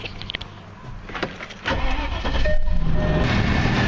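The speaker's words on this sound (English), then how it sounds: "Let me start it up." Land Rover engine starting up: starter cranking after a few clicks, then the engine catches and settles into a steady, close idle, with no talk.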